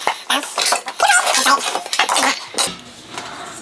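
A nesting camping cook pot and small bowl being handled, with loud close metallic clinks, scrapes and knocks in quick irregular bursts.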